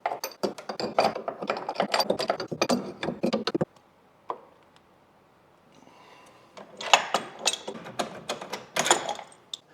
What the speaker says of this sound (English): I do still have to get the wrench on there.